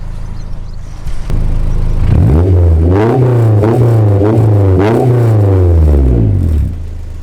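A car engine revs up from idle several times in quick succession, loud and close, its pitch climbing and dropping before settling back to idle.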